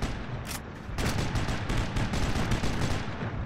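Gunfire in the Sniper Elite video game: a sharp single shot, then a fast run of rapid automatic bursts that stays loud and close to the end, with no talk over it.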